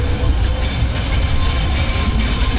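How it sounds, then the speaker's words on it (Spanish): An old tram rolls past on a street in Bulgaria with a loud, continuous low rumble and rattling wheels on the rails. No one speaks. "Está pasando aquí el tranvía."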